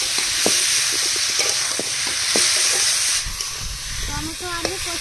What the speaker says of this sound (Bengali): এবার টমেটো আলু 2-3 মিনিট কষিয়ে নেব